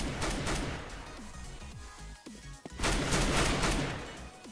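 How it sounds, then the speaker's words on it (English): An auto sniper rifle fires from the hip in CS:GO, with bursts of rapid, loud, sharp gunshots in quick succession, a short lull with scattered shots, then another dense volley. "you also have the added option of panic firing from the hip"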